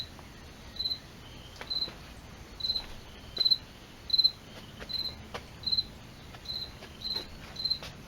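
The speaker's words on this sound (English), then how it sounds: "I think there's a cricket in my garage door" A cricket hidden in a garage door chirps in short, evenly spaced bursts about every half second to second, clear and fairly close over a soft steady background hiss, with no one talking.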